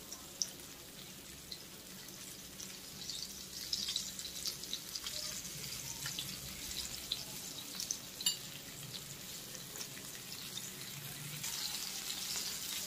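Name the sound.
fish frying in oil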